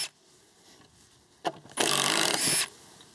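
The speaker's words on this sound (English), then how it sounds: "So now what I'm gonna do is pop the 2 screws out of this." A power drill backs two screws out of a stair layout board: a short whir, then a loud sustained buzz of just under a second, close by in a quiet room.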